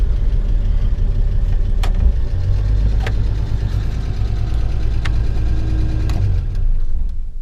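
A 1962 Plymouth Valiant, left abandoned for over twenty years, drives through town with a steady low engine rumble and road noise, punctuated by a few sharp clicks or knocks.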